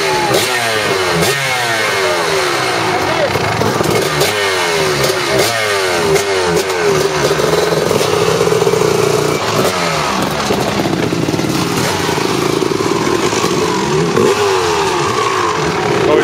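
A motorcycle engine revs repeatedly through rising and falling pitch sweeps, loud and close, with throttle blips and steady running between them and no talk over it.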